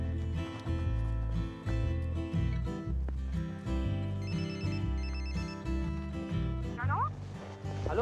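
A telephone rings as a call is placed, an electronic ringtone tone repeating in a steady pattern throughout, fairly loud and close, with no talking over it.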